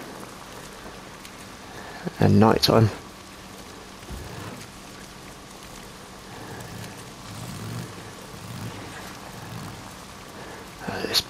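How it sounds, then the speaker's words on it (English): Night-time rain in the video game Days Gone, a quiet steady patter with a brief loud burst of noise early on and low rumbles, someone speaking briefly over it. "Wish it wasn't raining."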